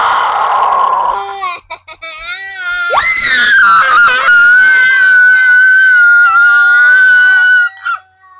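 One person screaming at full force for a long stretch, a loud sustained shrill cry that wavers in pitch, with a few short breaks and yelps near the start before one long unbroken scream.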